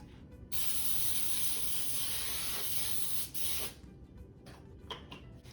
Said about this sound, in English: And then spray more on top.